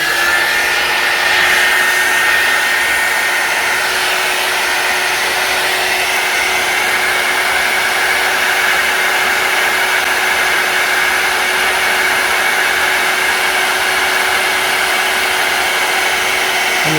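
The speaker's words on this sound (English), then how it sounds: "So now I'm going to heat emboss. So it'll be a bit loud for a moment," A heat embossing tool blows hot air in a steady, loud, continuous whir like a small hair dryer, running unbroken and close by with no talking.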